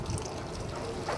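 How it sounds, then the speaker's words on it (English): Hot water poured over pounded palm nuts to sieve them for Ivorian palm nut soup, a short, soft, close trickle and splash of liquid with no speech. "we're using hot water to sieve it"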